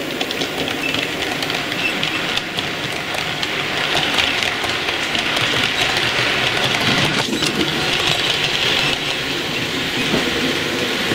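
A small model train rattles steadily along its track with continuous clickety-clack and a whirring motor, close by and fairly loud, with no talking.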